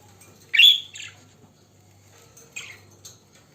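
Pet birds in a room, one with French molt feather disease, give a few sharp chirps, one louder near call and fainter ones after, over a quiet low hum.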